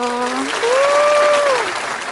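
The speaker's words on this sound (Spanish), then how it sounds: "Un aplauso" Applause from a church congregation after a pastor's talk, a dense steady clatter filling the whole stretch while a voice rises in a sustained sung or called tone over it.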